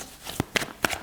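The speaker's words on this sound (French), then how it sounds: "on va tirer une dernière carte" Tarot cards are shuffled and drawn, giving three quick, soft papery flicks spaced a fraction of a second apart, faint and close with no talking.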